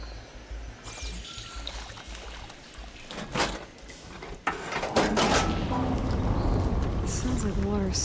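In Horizon Forbidden West, a mechanical clunk of a valve being switched is followed by a steady rushing of water that swells and keeps flowing, with a voice speaking over it.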